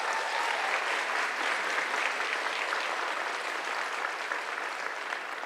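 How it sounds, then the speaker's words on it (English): Sustained applause from a large audience at a spring convocation ceremony, a dense, even roar of many hands clapping with no gaps, steady in level and heard from a distance in a big hall. "a round of applause for them."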